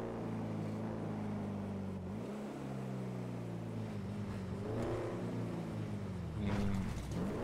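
A Lamborghini Sian sports car engine in GTA 5 drones at a steady, low idle-like hum with a few rising and falling revs, continuous and moderately loud with no talking.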